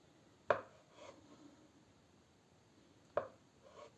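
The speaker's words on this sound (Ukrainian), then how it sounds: "Тепер беру 5 яєць і нарізаю на четвертинки." Two sharp knife strikes against a cutting board as boiled eggs are cut into quarters, spaced a few seconds apart, each followed by a softer scrape, in a quiet room.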